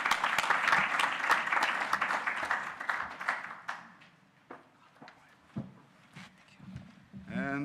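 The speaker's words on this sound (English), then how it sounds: "Ladies and gentlemen, clap your hands for Ivana Kolar, who will be joining the pan" Conference audience applauding a panelist at a tourism event, brisk clapping that fades after a few seconds into scattered claps, then a voice begins.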